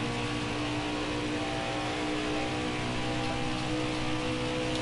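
A race car engine runs at a steady, loud drone around a Michigan race track, with a dense, continuous roar and no talk.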